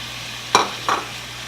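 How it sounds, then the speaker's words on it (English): Fresh spinach and dried tomatoes go into a pan of cooked lobster and shrimp, giving two quick close scraping, sizzling bursts against a quiet background hum. "We're going to go ahead and add our fresh spinach and dried tomatoes."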